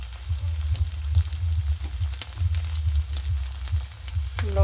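Ground spices, salt and turmeric frying in a pan with ginger-garlic paste for a tangy fish curry: a steady close sizzle with crackling pops throughout, and a brief rising clink right at the end.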